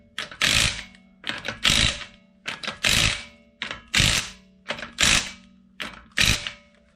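A ratchet tightens bolts in a crisscross pattern on a Toyota Kluger with a 3.5L V6: about nine close, loud bursts of rapid clicking, each a short run of ratcheting with brief pauses between.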